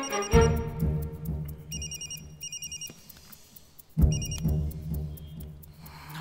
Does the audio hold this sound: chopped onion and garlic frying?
no